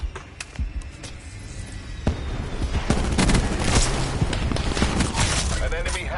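Rapid gunfire from a strafing run in a first-person shooter video game, with dense bursts of shots and impacts over several seconds, mixed with other game sounds and people talking.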